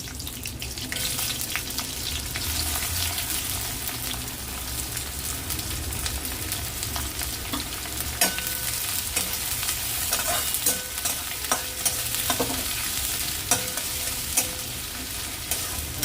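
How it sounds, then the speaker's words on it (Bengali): Chopped onions fry in hot oil with cardamom and cinnamon. A continuous close sizzle runs throughout, with intermittent spatula scrapes and knocks against the pan growing more frequent toward the end. "এবার আমি কাটা পেঁয়াজগুলো দিয়ে দেবো।"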